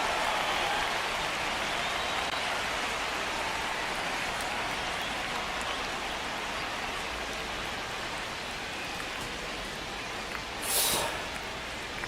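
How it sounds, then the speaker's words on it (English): Rain during a rain delay in MLB The Show 26, a steady, dense hiss of falling rain throughout at even loudness, with one brief brighter swish near the end and no talk. "The rain is here"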